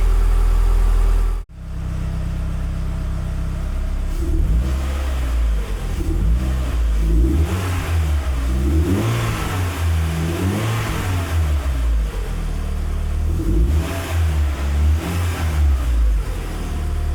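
A Renault Clio Trophy engine idles roughly, then revs up in several short bursts, the pitch rising and falling; close and steady, no voices.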